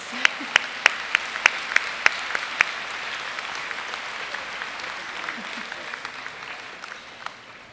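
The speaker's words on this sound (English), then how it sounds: "I think that deserves a round of applause" A graduation ceremony audience at John Abbott College bursts into applause, a moderate crowd clapping steadily for several seconds with a few sharper claps at the start, heard from some distance in a large hall.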